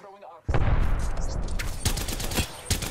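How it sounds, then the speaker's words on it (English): Havoc rifle in Apex Legends firing a loud, sustained automatic burst after a brief quiet lead-in, with dense rapid shots and a few sharper cracks layered on top. "there's quite a lot of heavy recoil with the Havoc in the moment"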